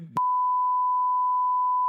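A loud, steady censor beep at one pure pitch, held for nearly two seconds just after a brief cut-off fragment of voice.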